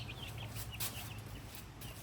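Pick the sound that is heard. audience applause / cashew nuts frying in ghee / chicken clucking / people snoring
chicken clucking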